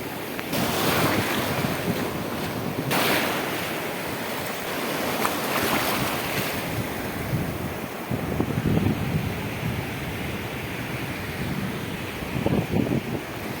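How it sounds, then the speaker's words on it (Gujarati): Sea waves breaking on the shore, a continuous loud rushing surf roar with heavy wind buffeting the microphone, swelling and receding in surges throughout, with no voices. "જોવા આવા મોજા ભાંગે છે"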